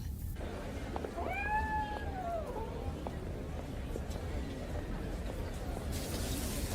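A cat lets out one drawn-out meow, faint and somewhat distant, over a steady background hum, with quiet ambience afterward.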